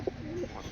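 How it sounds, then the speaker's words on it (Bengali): Domestic pigeon of a Bangladeshi fancy breed giving a soft, short coo close by, a brief low throaty note rising and fading within a moment, faint and quiet. "দেখুন এটাও কিন্তু বন্ধ দমের পায়রা"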